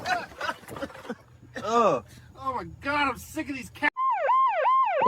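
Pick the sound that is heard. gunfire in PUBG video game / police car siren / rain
police car siren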